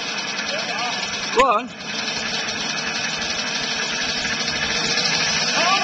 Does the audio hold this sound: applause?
no